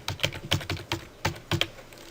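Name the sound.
typing on a computer keyboard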